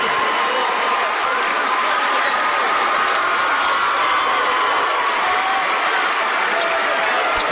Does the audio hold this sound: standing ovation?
yes